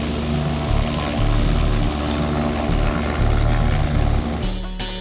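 A police helicopter's rotor thrums loudly and steadily overhead, a pulsing drone with engine whine, close and continuous.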